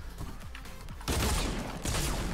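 Pistols fire in the video game Fortnite, a dense, loud volley of rapid shots erupting after a quieter opening and continuing in sharp bursts to the end.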